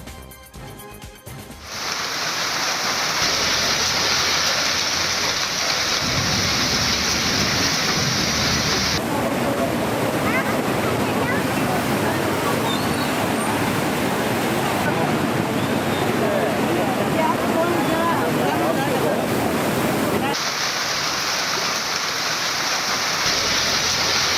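A dense, steady roar of a flooding stream and pouring heavy rain in Chikkodi district, Karnataka, loud and continuous throughout, with no voices.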